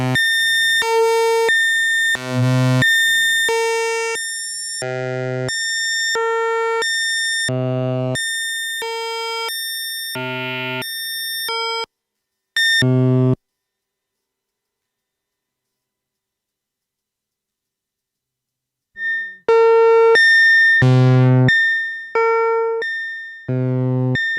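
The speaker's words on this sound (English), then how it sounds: "There's aliasing, and it sounds like some old man humming." A Eurorack modular synth tone is slowed way down, with aliasing that gives it a buzzy, humming quality. It plays as a rhythmic run of bright, pitched beeps, drops out for a long silent gap, then returns.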